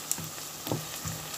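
Onion frying in a pan for Spanish black rice makes a soft, low sizzle with a few faint clinks and thumps of stirring, quiet and close, without speech.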